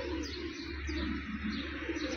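Pigeons coo in low, continuous murmuring calls over a steady background hum, with occasional faint chirps mixed in.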